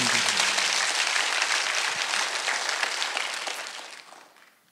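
A church congregation claps together at a Sunday worship service in a dense, steady burst of applause. The clapping fills the space and then fades out toward the end.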